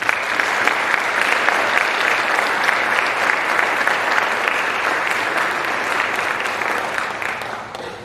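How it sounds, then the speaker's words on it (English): A large audience at a Phi Theta Kappa honor society induction ceremony gives a long, steady round of applause, dense and even, tapering slightly at the end. "Please give them a round of applause."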